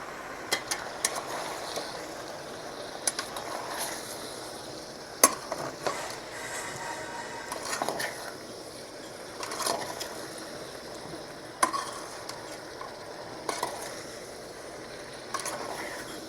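A spoon stirring eggplant and potato curry in a pan, with intermittent scraping clicks and soft sizzling at close range.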